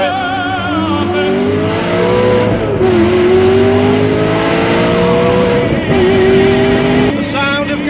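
A Maserati Quattroporte engine at full throttle roars loud and close, its pitch climbing through repeated surges with brief dips at each gear change.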